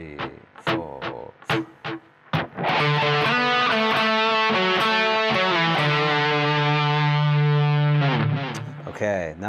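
A distorted electric guitar plays the final solo phrase of a song: a few choppy plucked notes lead into sustained, gritty, bending notes, loud and close.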